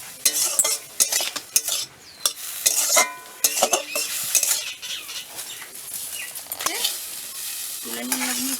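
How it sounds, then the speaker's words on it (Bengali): Boiled rice fried in ghee is stirred in a wok, a spatula scraping and clanking in brisk strokes over a continuous sizzle, close and loud, with a brief low tone near the end and no talking. "একটু নেড়ে নেব।"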